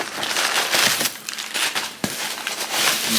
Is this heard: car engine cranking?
no